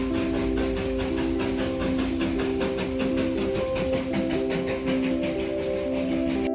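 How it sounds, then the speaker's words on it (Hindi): A Darjeeling steam train passes very close to a car, a sustained whistle-like hiss and tonal drone sounding loud and near over rhythmic chuffing pulses. "कभी सोचे नहीं थे कि कार के इतने पास से ही ट्रेन गुजरेगी।"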